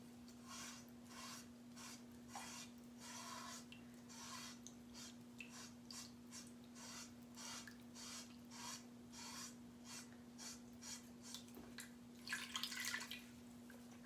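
A Chalk Couture stencil being rinsed under running water, a steady faint wash with repeated soft rubbing and scrubbing strokes, rising briefly louder near the end, with a constant low hum underneath.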